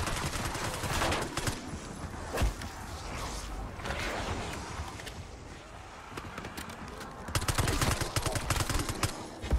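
Rapid full-auto gunfire from a Call of Duty Zombies match, dense crackling bursts nearly continuous throughout with heavier volleys near the end, loud and close.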